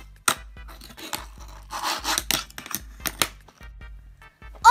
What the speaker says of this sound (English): You just push your tail down and just start sliding it.